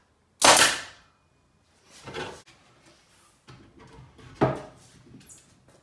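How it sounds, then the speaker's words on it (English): Nail gun firing nails into a wooden bee hive box, three sharp close bangs spaced about two seconds apart, each with a brief woody rattle after, in an otherwise quiet room. "if your nail gun is pointed a little cockeyed, when you shoot this through, you'll have your blowouts come out the side"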